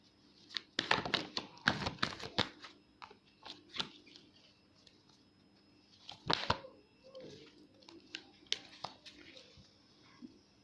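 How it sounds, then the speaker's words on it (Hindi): Tarot cards are shuffled by hand in a series of crisp riffling and slapping bursts, loudest early on and again near the middle, with softer card rustles in between and no talk over them. "जब तक मैं आपके लिए कार्ड शफल कर रही हूँ"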